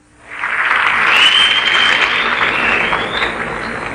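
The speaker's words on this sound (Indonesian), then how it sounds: "Tepuk tangan untuk Saudara Kamarudin bin Ahmad" Audience applause rising quickly to a full, steady roar of many hands and holding for several seconds, greeting Kamarudin bin Ahmad, a guest from Seremban, Malaysia, at a Minangkabau talk by Yus Dt Parpatiah.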